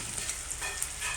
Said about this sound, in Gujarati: લોયાની અંદર તેલ લઈ તેમાં આદુ અને લસણ, આદુ લસણની પેસ્ટને થોડી ફ્રાય કરી લઈએ